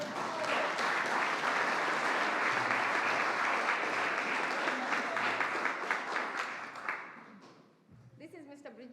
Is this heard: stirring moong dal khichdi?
no